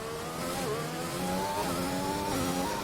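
McLaren race car in a racing video game on a hot lap, its engine whining loud and steady, pitch climbing through the gears with brief dips at each shift.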